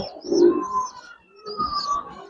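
Coloring and silver Giribaz pigeons coo nearby in two soft, throaty, rolling phrases separated by a short pause, with a faint chirp over them.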